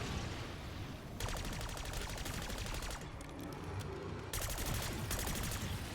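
Rapid automatic gunfire in Black Ops 6 Zombies while mowing down zombies, two long loud sustained bursts separated by a short pause, no talk.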